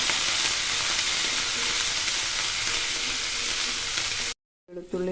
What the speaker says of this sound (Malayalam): ഇഞ്ചി വെളുത്തുള്ളി പേസ്റ്റ് നമ്മൾ അതിലേക്ക് ഇടുകയാണ് നല്ലതായിട്ട് അതൊന്ന് ജസ്റ്റ് ഫ്രൈ ആയി വന്നിട്ട്